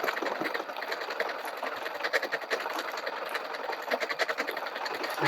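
A sewing machine with a cloth guide stitching dense decorative stitches onto stabilized ribbon, its needle chattering in a fast, steady mechanical rhythm, close and continuous.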